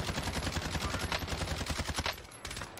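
Rapid automatic gunfire in the shooter game Warzone, sandbox mode, fires in a dense, loud, sustained burst of shots, then briefly stops and resumes at a slightly lower level at the end.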